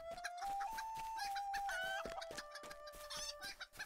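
A chicken in the video game The Ballad of Bingo Boffin clucks in quick, close, repeated bursts over a steady tonal background sound.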